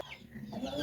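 Chickens clucking on a small upcountry farm, a brief close burst of fowl calls with a rooster-like tone, loud and alone without talk.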